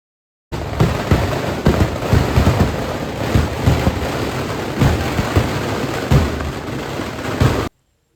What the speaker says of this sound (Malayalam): വെടിക്കെട്ട് തുടങ്ങിയിട്ടുണ്ടായിന്